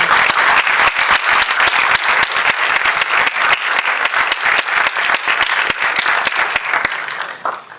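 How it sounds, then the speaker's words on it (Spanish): Loud, close applause from an audience at a film club event at Cine Club Hugo del Carril in Córdoba, Argentina, with sharp individual claps standing out in a steady rhythm before it tapers off. "Les pido un fuerte aplauso por ellos."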